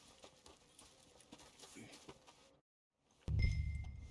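Hooves from a workhorse in Red Dead Redemption 2 clip-clop softly under a quiet voice, then fall silent briefly before a louder rumbling burst with a steady tone returns at the end.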